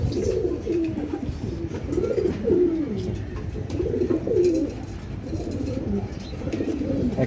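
Pigeons coo repeatedly at a pigeon farm, soft rolling low calls overlapping in a steady rhythm against a murmuring background of flapping and faint rustling.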